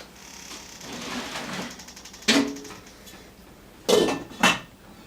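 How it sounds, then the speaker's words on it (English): A lid goes onto a cooking pot of artichokes with three sharp metallic clanks: one alone, then two in quick succession near the end, over a quiet kitchen background. "And I'm going to put a lid on."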